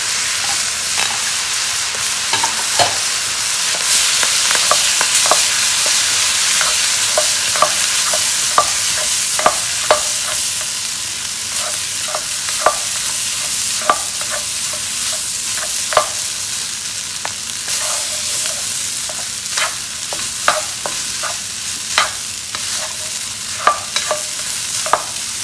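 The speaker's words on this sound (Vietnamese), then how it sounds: "mình xào chung với nó" Quinoa seeds stir-fried in a pan, a steady sizzle broken by repeated scraping clicks from the spatula, close and fairly loud, with no one speaking.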